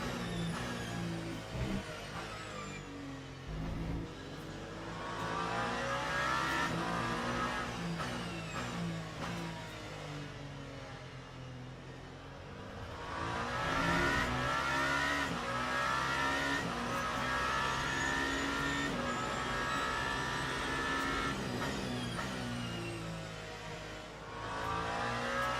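Race car engine from a racing video game at Imola, revving hard and sweeping through gear changes with rising and falling pitch across several corners, loud and continuous with no talk.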